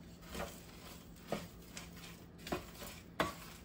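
Shrimp, rice and vegetables are stirred in a pan, a quiet faint sizzle broken by a few separate scraping strokes of the spoon, close but soft.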